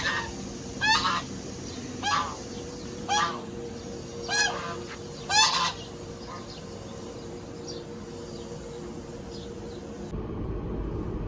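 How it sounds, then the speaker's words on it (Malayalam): Swans in a park on the Abu Dhabi Corniche give five separate honking calls spaced about a second apart, moderately close over a steady outdoor hum, followed by a quieter stretch. "ഇതുപോലത്തെ കുറേ അരയന്നങ്ങളും പ്രാവുകളും എല്ലാം ഈ പാർക്കിലുണ്ട്"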